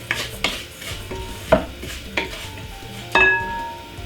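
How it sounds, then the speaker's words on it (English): Spoon stirring finely chopped garlic and mixed herbs in a bowl, a few scattered clinks and scrapes with pauses between them, close and fairly quiet. "Then give it a mix."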